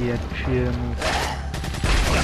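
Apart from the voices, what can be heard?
gunfire in the video game Resident Evil 4 Separate Ways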